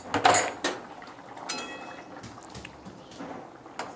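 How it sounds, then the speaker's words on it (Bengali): A lid lifted off a cooking pot of simmering fish curry with potato and pumpkin, giving a few close metallic clinks and clatters followed by quieter rattles. "এবার আমি ঢাকনাটা খুলে দেখি কতটা কি হলো"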